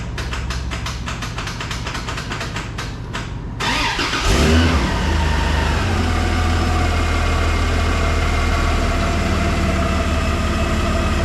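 A Toyota 80 series engine cranks over with a rapid, rhythmic starter whir for a few seconds, then fires and settles into a steady, close, loud running idle with a deep low rumble.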